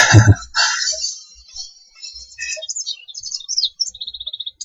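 Birds chirp and trill in the video game Syberia, bright rapid calls near and clear, ending in a fast even run of repeated notes, with no talking.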